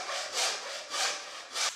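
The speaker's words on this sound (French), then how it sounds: "Découpez à la scie à métaux" Hacksaw cutting through a ventilation pipe, three steady back-and-forth strokes with a bright rasping edge on each push, close and alone.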